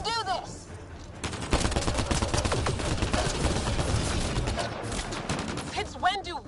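Rapid sci-fi gunfire from Mass Effect: Andromeda rattles in dense bursts over several seconds, loud and close, with brief whooshing, chirping effects at the start and end.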